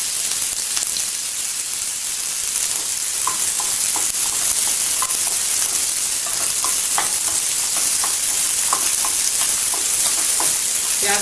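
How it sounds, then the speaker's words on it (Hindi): Sliced onions and curry leaves frying in a pan for a South Indian green bean dish, a steady close hiss with scattered pops and crackles throughout, loud and continuous. "प्याज डाल देंगे। करी पत्ती लीफ डाल देंगे"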